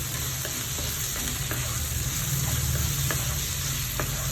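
Sliced capsicum for wheat noodles fries in a pan with a steady close sizzle and a few faint stirring taps, with no talking.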